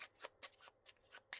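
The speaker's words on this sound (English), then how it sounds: "Just shuffle those up a little bit." A small deck of playing cards is shuffled by hand, several quick papery riffles and snaps in an uneven rhythm, faint and close with no talking.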